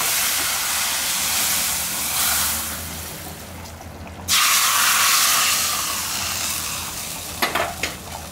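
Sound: tempering with curry leaves poured into prawn gravy, sizzling

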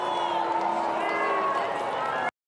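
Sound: graduation crowd booing during a commencement speaker's speech

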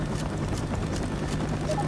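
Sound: helicopter arriving in a video game

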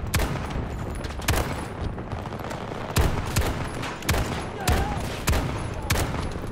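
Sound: Desert Eagle pistol gunfire in a video game

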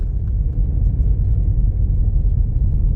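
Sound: car driving downhill on a forest road

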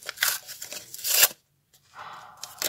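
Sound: small packet being torn open

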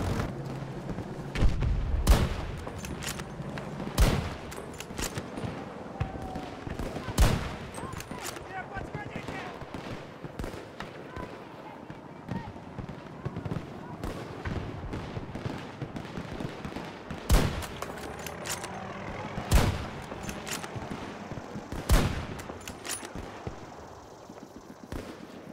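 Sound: gunfire in video game Battlefield 2042

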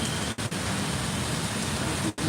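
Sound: heavy rain falling in Hyderabad

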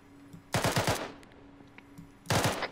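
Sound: gunfire in video game Arma 3

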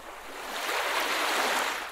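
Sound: river water sound from the Noisli noise generator app

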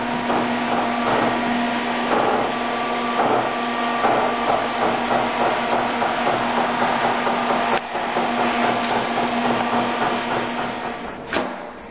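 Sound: electric cutter trimming laminated poster prints

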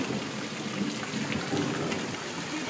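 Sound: hail falling during a Kansas storm

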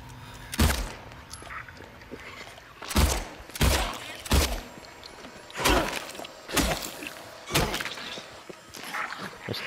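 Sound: gunshots and hits in a video game

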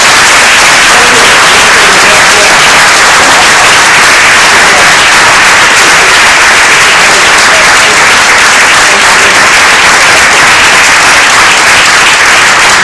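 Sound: audience applause at climate change panel

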